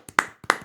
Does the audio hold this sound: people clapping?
yes